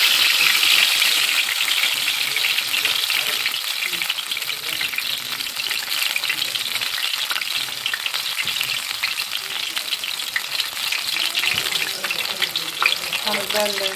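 Fish fried in hot oil, the pieces dipped quickly in tap water before going in so they crisp up, giving a close, constant crackling sizzle with dense popping that holds at steady loudness and has no talk over it.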